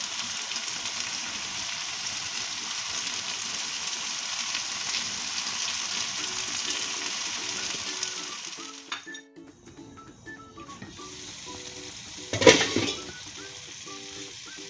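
Potato and eggplant curry sizzling in a pan just after green chilies go in, a steady frying hiss with a few light clinks of a utensil against the pot.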